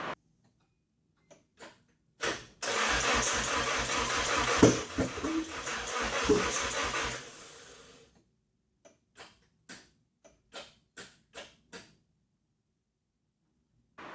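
A Nissan 240SX S13 with an SR20DET engine cranks briefly and then catches, running loud for about five seconds before shutting off, with a string of sharp clicks or taps following in the quiet afterward.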